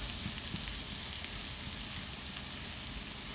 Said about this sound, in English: You want to let that sizzle